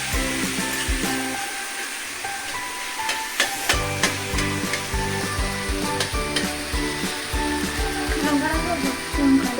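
Chopped tomatoes sizzle and fry loudly in a pan while cooking egg biryani, with steady hissing and occasional stirring clatter throughout, close up and without talk.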